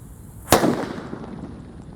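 A pink Colorful Thunder firecracker, lit outdoors, goes off in a single sharp loud bang, followed by a short fading crackle and rumble.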